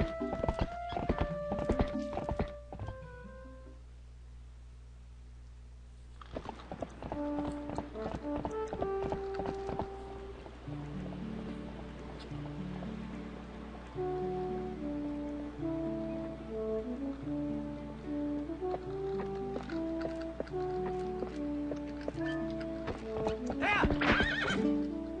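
A horse in Zelda: Twilight Princess gives clip-clopping hoofbeats and repeated neighs over a light melodic game score, with the sounds coming close and fairly loud.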